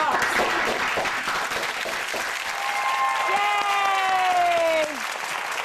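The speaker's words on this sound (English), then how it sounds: "Everyone, give your mom a round of applause." A studio audience on a TV talk show breaks into loud, steady applause with scattered cheers, lasting several seconds, while music swells in toward the end.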